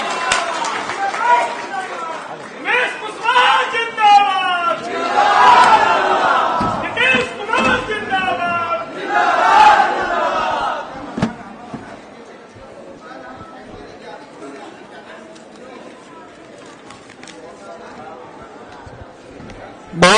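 A large rally crowd roars, shouts and cheers for an arriving party leader at a political anniversary gathering, loud and chaotic at first before settling into a murmur of chatter.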